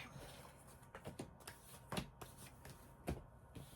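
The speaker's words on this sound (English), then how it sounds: "I'm just going to shuffle these cards" Tarot cards being shuffled by hand, a few quick riffling bursts with soft rustling and taps between them, close up in a quiet room.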